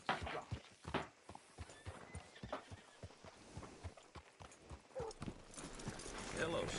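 In Red Dead Redemption 2, a horse's hooves clip-clop in a steady walking rhythm while the horse snorts and whinnies, with character voices talking over the hoofbeats.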